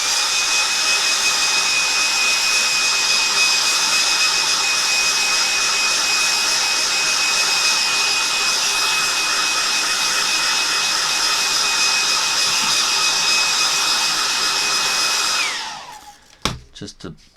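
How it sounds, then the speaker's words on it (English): A hairdryer blows on a drawing of a pangolin on paper, giving a loud, steady whooshing drone that holds for about fifteen seconds and then cuts off, followed by a few brief handling knocks. "I'm just going to get my hairdryer out again."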